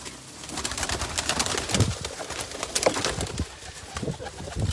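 Several Taddy pigeons for sale coo in repeated soft, throaty calls close by, with faint rustling and no talk.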